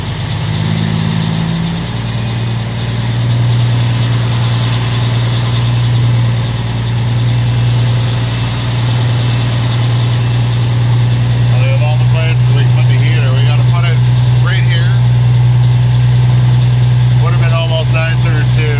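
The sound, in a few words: truck engine idling while backing onto mats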